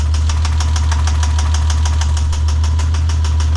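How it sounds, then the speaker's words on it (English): A blown BMW M20 inline-six idling after being started, with a loud, fast, relentless metallic knock hammering evenly over a deep droning engine rumble, close up and continuous. "So if I go and start it, oh dude, that is bad. My M20 is done. I have blown my motor."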